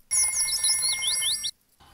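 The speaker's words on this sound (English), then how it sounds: "It looks like Daddy Pig does not want to answer the phones at the moment" A telephone ringing in a Peppa Pig cartoon, a bright trilling cartoon ring that warbles for about a second and a half, then stops abruptly.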